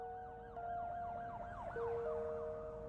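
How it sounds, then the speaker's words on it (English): An emergency siren wails through the night, its pitch sweeping up and down in steady cycles, moderately loud over a low background rumble with no voices. "The wail of a siren etching through the night filled the void that followed."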